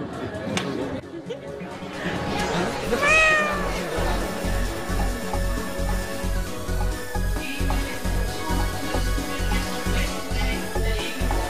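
A cat meows at a cat show, a few drawn-out cries early on amid a crowded hall, followed by a steady rhythmic thumping with people talking in the background.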